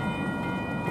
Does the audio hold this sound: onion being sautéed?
no